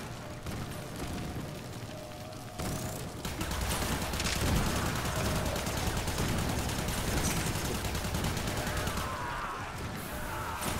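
Sustained bursts of automatic gunfire and rapid weapon fire in the sci-fi shooter Warframe, loud and dense for several seconds with heavy overlapping shots and booms, no speech.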